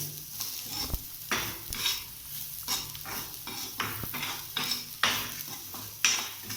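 Beetroot is stirred and sautéed in a pan for beetroot chutney. A spoon scrapes the pan in repeated strokes over a steady sizzle, close up, with no talking.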